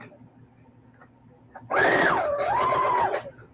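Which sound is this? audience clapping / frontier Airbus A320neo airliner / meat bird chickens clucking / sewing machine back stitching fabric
sewing machine back stitching fabric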